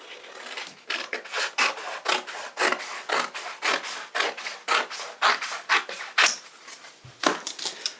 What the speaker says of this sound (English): If you fold it sharp, then you can actually hold it and cut to that line with your shears.